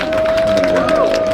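An audience at a live music festival applauds and cheers after a song, a short burst of clapping and crowd noise mixed with a steady tone and some voices.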